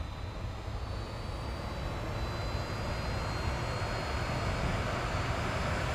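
Aircraft engine roaring at takeoff throttle in the Infinite Flight game, during a Grand Canyon departure; a steady, loud, dense drone holds level throughout with no voices.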